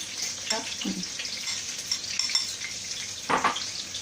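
Boiled potatoes and vegetables mixed together in a bowl for a potato egg salad, soft scraping and clinking of utensils under a steady background hiss, with brief speech.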